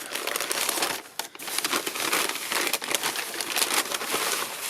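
Paper wrapping around a collectible action figure crinkling and rustling up close as it is unwrapped, in dense crackling bursts with a brief pause.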